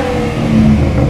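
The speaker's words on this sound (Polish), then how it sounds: "On ma jeszcze taki troszeczkę głośniejszy wydech." A Ford Mustang revs loudly up close through a louder aftermarket exhaust, its throaty note rising and holding in a brief, continuous roar.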